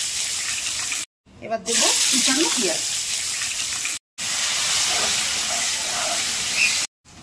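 Chopped onions fry in hot oil with garam masala and bay leaf, giving a steady close hiss broken by a few brief silent gaps.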